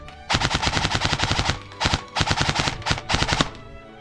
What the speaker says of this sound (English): since it is nighttime and we're going to be doing some test shooting, I'm going to be using the tracers and this Asetek BQB tracer unit